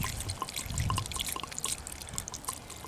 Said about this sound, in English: I'm just going to pour a little bit on this